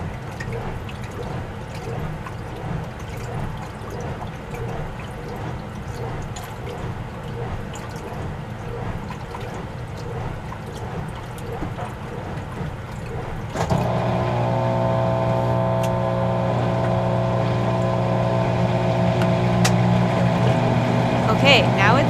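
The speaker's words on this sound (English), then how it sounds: "now it's draining and spitting out the dirty, soapy wash water." An RCA compact portable washing machine, model RPW160-B, drains its dirty, soapy wash water. Steady churning noise gives way partway through to a louder, constant pump hum with a buzzing tone that runs to the end.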